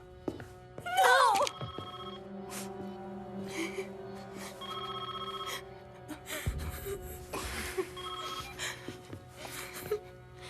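A telephone rings repeatedly in a tense French film scene, the bursts of ringing spaced out over a quiet background with gasps, thuds and brief voices between them.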